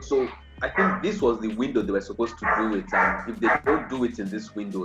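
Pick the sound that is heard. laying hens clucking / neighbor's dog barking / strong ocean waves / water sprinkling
neighbor's dog barking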